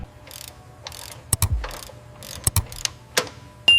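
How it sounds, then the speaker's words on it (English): Torque wrench tightening brake caliper bolts on the U.S. presidential armored car, short ratcheting bursts with several sharp metallic clicks and knocks, close and fairly loud with no talk. "Use the torque wrench to tighten these bolts to the manufacturer's specification"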